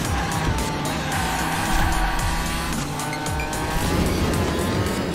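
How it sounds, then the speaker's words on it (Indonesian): Dominic Toretto's car racing in the Hot Wheels Unleashed video game: a steady, loud engine roar with squealing tires and skids throughout, with no pause. "tuh mobilnya Dom kencang juga ya"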